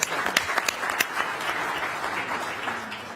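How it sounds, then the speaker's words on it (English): A panel-discussion audience applauds, dense clapping with a few sharp claps standing out at the start, then fading slightly as it carries on. "Clap for that."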